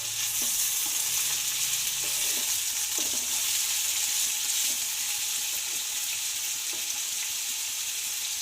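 Boiled cauliflower stems fry steadily in a pan over a fairly high gas flame, giving a continuous loud sizzle with occasional soft scrapes and knocks of a stirring spoon.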